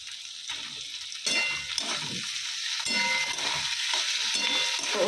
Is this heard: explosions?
no